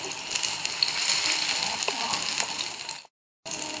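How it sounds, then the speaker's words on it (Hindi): Bread cutlets fry in hot oil with a steady, close crackling sizzle that carries on evenly for about three seconds, breaks off into brief silence, and then comes back. "अब हम इनको फ्राई करेंगे।"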